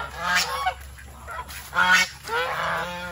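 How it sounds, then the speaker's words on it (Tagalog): Domestic geese honk nearby in several loud, nasal bursts, overlapping calls rising and falling over about three seconds. "Ito yung mga gansa natin."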